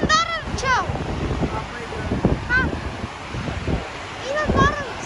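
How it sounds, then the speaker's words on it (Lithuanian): Waterfall in Iceland on the Golden Circle, a steady roaring rush of falling water with wind buffeting the microphone, while people talk nearby over it. "va čia krioklys"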